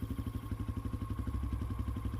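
A motorcycle engine in an animated horror story produces a steady, rapid low throb that rises slightly in intensity. It sounds close and continuous, with no voices.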